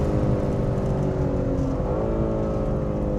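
BMW G80 M3 engine on the Goodwood circuit, a steady, moderately loud in-car drone with layered harmonic tones that rise slightly as the car pushes on.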